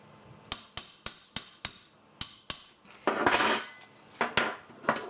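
Hammer taps striking M4 SOPMOD Next Generation Recoil Shock buffer tube parts during disassembly: a run of about nine sharp, close metallic strikes at an uneven pace, with a brief burst of scraping handling noise midway.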